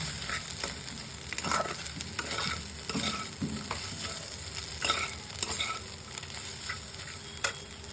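A spatula stirs and mixes bread hotchpotch in a hot pan with black salt and a little sugar, making a steady frying sizzle broken by repeated close scraping and clattering strokes, with no voices.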